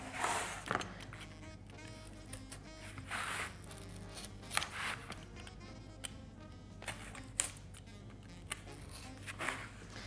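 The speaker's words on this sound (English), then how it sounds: "So I've got a Stanley knife." Close scraping and crunching cuts with a Stanley utility knife through thick multi-layered cardboard, in short uneven strokes with brief pauses, quiet and without talking.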